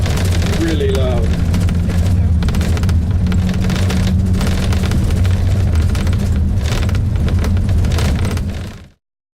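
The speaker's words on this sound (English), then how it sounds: "when the flare goes off, the fire goes off, we can hear it from here. It's really, really loud." A gas flare at a Prudhoe Bay, Alaska oil field roars as a loud, steady broadband rush, heard from a distance over wind buffeting, with a brief voice early on, before cutting out abruptly.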